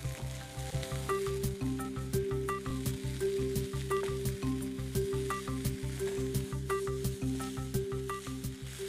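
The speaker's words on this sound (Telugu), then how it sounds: "బ్రౌన్ రైస్ వేసి చక్కగా కలుపుకుందాం" Brown rice mixture sizzling in a hot pan while a spoon stirs it, a steady close fry with regular scraping strokes and no talking.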